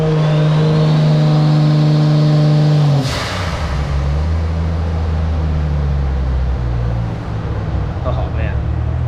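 A Toyota Supra Mk IV engine runs on a dyno for Gran Turismo 7 recording, revving hard with strong harmonic tones, then the revs drop off around three seconds into a steady lower drone, loud and close.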